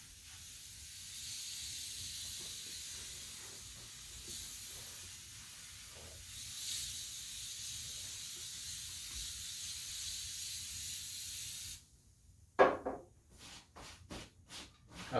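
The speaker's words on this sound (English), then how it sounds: "the sound of the sizzle that the starch makes when it hits the fabric" A spray of starch hissing steadily as a hot iron presses across a blouse on an ironing board, a continuous close sizzle that stops abruptly and then returns as several short, sharp spurts.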